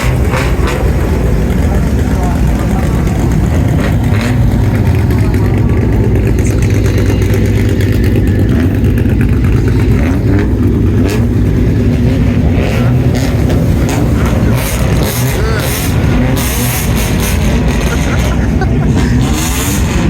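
Bosozoku-style modified car engines rev loudly at a car gathering, with repeated throttle blips and a sustained roar over a constant engine drone while people talk excitedly nearby.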